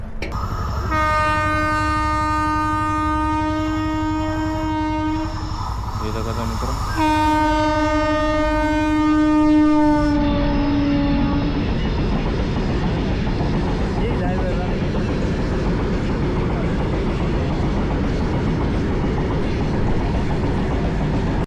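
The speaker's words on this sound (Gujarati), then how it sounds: "આ બાજુથી ટ્રેન આવે છે" A train arriving at Ramdevra station sounds two long, loud horn blasts separated by a short gap, then a heavy rolling rumble of wheels and carriages that continues steadily. A person speaks briefly over it.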